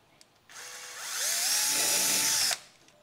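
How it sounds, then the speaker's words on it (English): A power drill whirs up and bores steadily into metal on a Jeep Gladiator nerf bar for about two seconds, pitch rising as it spins, then cuts off abruptly; close and fairly loud. "we're just going to drill right in the center of it"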